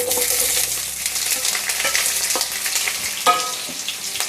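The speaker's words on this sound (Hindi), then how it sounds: "प्याज को मैंने हल्का हल्का फ्राई कर लिया था" Roughly chopped onions fry in a pan for dum aloo, a loud close sizzle with scraping and stirring clatter from a utensil, continuous throughout with a sharper knock midway.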